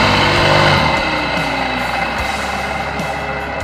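A water pump motor reworked into a homemade coconut grater runs steadily with a loud, constant mechanical whine and hum close by, slightly easing after the first second.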